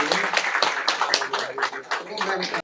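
An audience at an Indore environment programme applauds, a dense steady wash of clapping that holds for about two and a half seconds before cutting off abruptly.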